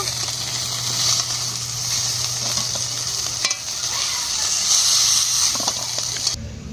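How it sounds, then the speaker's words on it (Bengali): Fish frying in oil in a kadai gives a steady, loud sizzle and hiss throughout, close by, with faint clatter and no talk. "মাছগুলো ভেজে নেব। মাছটা ভেজে নিয়েছি, এবার তুলে নেব।"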